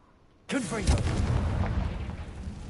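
In Hogwarts Legacy, a Confringo blasting curse goes off after near silence, an abrupt loud burst that swells into a deep, rumbling, whooshing explosion lasting a couple of seconds, with a voice mixed in.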